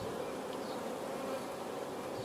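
Honey bees hum steadily inside a Mann Lake double mini mating nuc hive, a dense continuous buzz close up with no voices.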